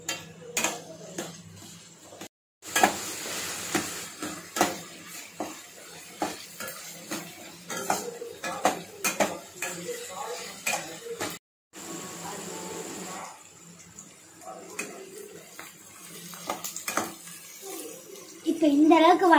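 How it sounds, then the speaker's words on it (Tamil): Onion and garlic frying in a pan for kara chutney, a steady sizzle with frequent stirring scrapes and clinks, close and fairly loud, running under speech for most of the time. "ஆனியனை வந்து கோல்டன் பிரவுன் கலர் வர வரைக்கும் ஃப்ரை பண்ணிக்கோங்க"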